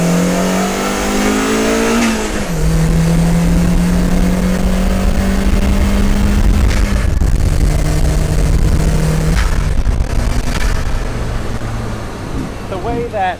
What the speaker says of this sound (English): the sound comes from behind you, and you hear the turbo and the blow-off valves